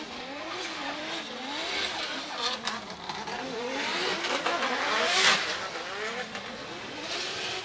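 A drift car at Formula Drift Japan qualifying at Ebisu revs hard on a warm-up lap, its engine warbling up and down continuously with tire squeal and skidding. It is loud and sustained, with crowd or commentary noise faintly underneath.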